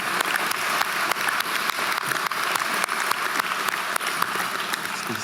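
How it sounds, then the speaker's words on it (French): An audience at a university law faculty's formal opening and award ceremony applauds warmly, with dense, sustained clapping from many hands. "Je vais applaudir chaleureusement."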